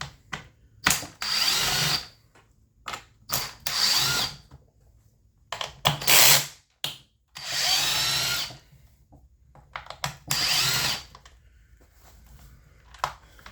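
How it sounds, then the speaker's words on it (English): Several short bursts from a power driver backing out Torx T27 fasteners on a Stihl MS391 chainsaw during a rebuild, each whir a second or two long, separated by quiet pauses and faint handling clicks. "Don't be afraid to take stuff apart using power tools."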